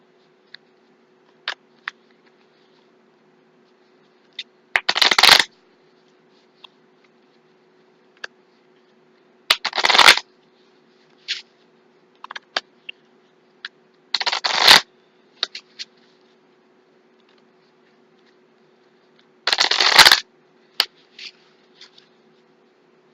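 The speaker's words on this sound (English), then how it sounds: "I do have a process when I shuffle," Tarot cards being shuffled up close, several separate bursts of riffling spaced a few seconds apart with soft taps and clicks between them over a faint steady hum.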